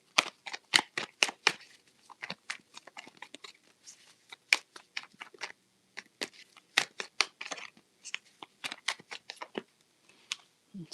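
Tarot cards being handled and laid out on a surface, producing a series of crisp, close, snappy flicks and slaps in irregular bursts with short quiet gaps between them.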